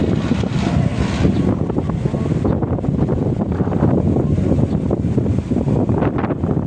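Strong wind roars and buffets the microphone continuously, a loud rushing gust with no other clear sounds.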